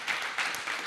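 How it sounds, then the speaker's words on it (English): Brief burst of audience applause at a music conference, an even wash of many hands clapping with slight swells in intensity, heard alone. "Let's also give ourselves a huge round of applause"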